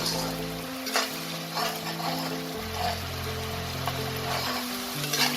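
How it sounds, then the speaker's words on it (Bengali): A masala of ginger, green chili and onion sautés for fish kalia, with a low, steady sizzle and occasional stirring scrapes, fairly quiet beneath a constant tonal hum from the kitchen. "মশলাটাকে আমাকে খুব ভালো করে একটু কষিয়ে নিতে হবে।"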